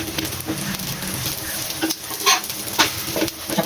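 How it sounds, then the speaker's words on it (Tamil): Chapathi sizzles steadily on a hot oiled tawa, a continuous bright frying hiss with a few scraping stirs and spatula clicks, close and alone without talk. "இப்போ சப்பாத்தி போடலாம்."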